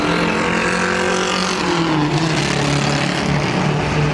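Race cars at the 24 Hours of Le Mans, with a Dodge Viper GTS-R among them, roaring steadily and loudly with overlapping engine drones and passing whines, heard from trackside.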